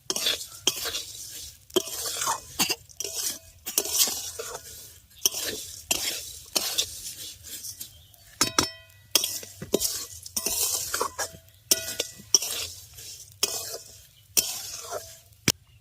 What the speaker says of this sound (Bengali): এবার সমস্ত কিছুকে ভালো করে মিশিয়ে নেব।